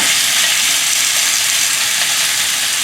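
Beef stir-fried with butter mushrooms, snow pea pods and carrot sizzles loudly in a hot pan, a steady, dense frying hiss that holds without a break and has no talk over it.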